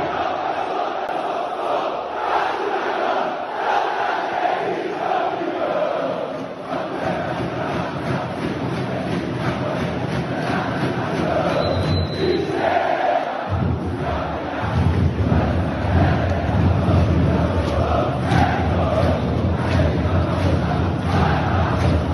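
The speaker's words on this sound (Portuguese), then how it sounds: "Olha a festa que a torcida vascaína fez ontem no ginásio de São Januário." Vasco fans celebrate inside the São Januário gymnasium, a dense crowd roaring and chanting together in a reverberant hall, loud and sustained, swelling stronger in the second half.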